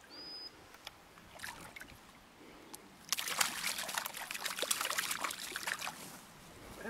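A small Norwegian stream trickles and babbles steadily in the background during trout fishing, faint at first and then fuller and splashier, with no clear talk.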